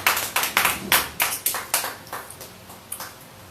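Church congregation clapping hands in praise, a quick run of sharp rhythmic claps that starts loud and gradually thins and fades toward the end, with no voices over it.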